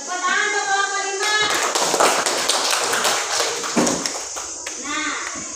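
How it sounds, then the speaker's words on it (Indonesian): A classroom of children claps for group 5 after its presentation. The burst of clapping lasts a couple of seconds and is mixed with children's chatter, with children's voices before and after it. "Tepuk tangan untuk kelompok 5."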